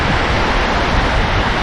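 Winter sea surf washes onto a beach on Gozo, Malta, a loud, steady broadband rush of breaking waves close by.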